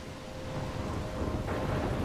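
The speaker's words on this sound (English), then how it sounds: "I'm trapped in a storm?" Steady rain pours down with a low rumble of thunder rolling underneath, growing a little heavier toward the end.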